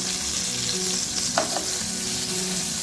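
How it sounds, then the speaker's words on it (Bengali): Eggplant slices fry in a wok, producing a steady close sizzle of hot oil with a brief stirring or turning scrape midway and no talking. "এক দেড় মিনিট ধরে বেগুনের একটা পাশ ভেজে নিচ্ছি"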